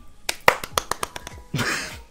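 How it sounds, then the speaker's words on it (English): Sharp hand claps from one person, a series of light, fairly soft claps in quick irregular succession, close to the listener and followed by a brief burst of breathy noise. "I didn't want to clap too loud so it didn't blow out your eardrums."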